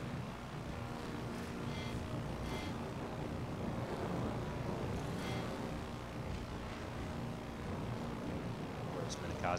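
Fighter planes droning overhead in a naval combat video game, a steady engine hum and wind-like roar running continuously under the game's ambient noise.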